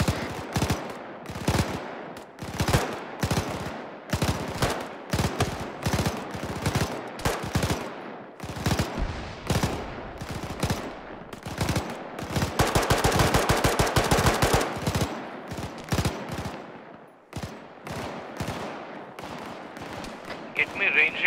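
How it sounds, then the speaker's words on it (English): Sustained machine gun fire from a gun run during a night military operation hammers out in rapid repeated bursts, building to a dense continuous stretch in the middle, with voices talking intermittently over the shooting. "let me know when the gun run is done"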